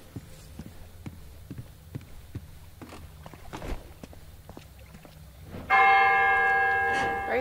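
Church bells in the horror game Silent Hill Downpour peal loudly and ring on, following a stretch of scattered footsteps and soft thuds.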